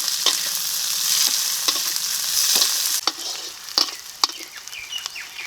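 Chopped onion sizzling in mustard oil with a bay leaf and whole cumin, a bright steady fry broken by repeated scraping stirs of a spatula in the pan; the sizzle drops quieter partway through as stirring continues.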